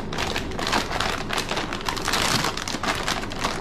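Packing tape is peeled off the box of an AMD Radeon RX 7900 XTX 24GB graphics card, giving a dense, continuous crackling rasp at close range, steady for several seconds.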